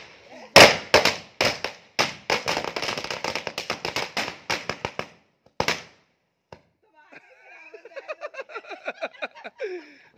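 Firecrackers packed inside an effigy burn during a Ravan Dahan celebration, sending out a fast, loud string of sharp bangs and crackles for several seconds. A few lone pops follow, then a burst of laughter and chatter.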